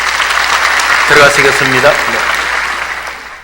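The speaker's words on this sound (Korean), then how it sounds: "다시 한번 우리 박수로 격려하겠습니다." A church congregation applauds during a Sunday afternoon seminar. Dense clapping builds and then fades away while someone speaks briefly over it.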